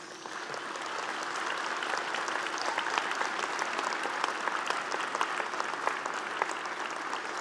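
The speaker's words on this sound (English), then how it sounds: "So give them a big round of applause." Sustained applause from a McGill University fall convocation audience in a large hall, a dense, even patter of many hands clapping steadily throughout with no voices on top.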